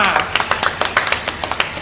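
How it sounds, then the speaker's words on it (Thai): Small group clapping to welcome a student named Mimi at a Thai university program's portfolio admissions event, sparse irregular claps close by, with a voice talking over them. "ขอเสียงปรบมือต้อนรับ"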